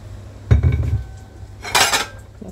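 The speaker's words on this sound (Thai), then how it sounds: "มาทำการแยกจาน" Plates clatter and clink in two short bursts as they are sorted by size after coming out of a dishwasher, with ceramic knocks close by and no talking.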